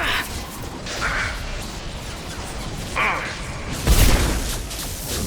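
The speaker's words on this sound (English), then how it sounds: "Watch out, flashbangs!" Flashbang grenades go off in the sci-fi shooter Mass Effect 2 as a few sharp bursts with metallic crashes, the biggest a loud blast near the end, amid ongoing combat noise.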